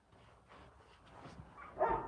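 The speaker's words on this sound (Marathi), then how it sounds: "हे इंग्लिश कुत्रा आहे मित्रांनो" A dog barks once, fairly close, after a few seconds of quiet background rustling.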